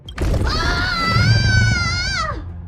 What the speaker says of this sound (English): Did someone scream?